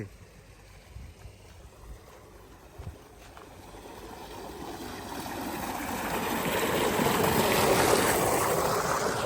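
Two pump motors run steadily as pumped water gushes out, the rushing flow growing louder and fuller over several seconds with no talking.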